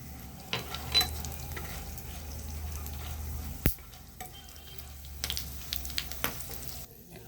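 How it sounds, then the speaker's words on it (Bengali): Dried red chilies, bay leaf and whole garam masala frying in hot oil, giving a soft steady sizzle close up, punctuated by a few sharp pops and spatters, with no talking. "একটু শুকনো লঙ্কা ফোড়ন দেব, গোটা গরম মশলা"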